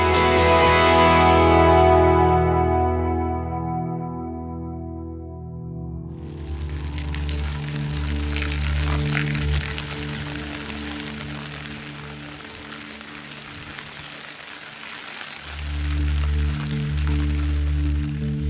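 Steady rain patters on a surface, a dense hiss that swells and fades, with low droning tones underneath.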